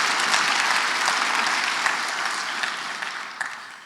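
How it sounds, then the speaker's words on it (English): Audience applause at a county state address, a sustained round of clapping from a large room that gradually fades toward the end. "Can we give Marta a round of applause"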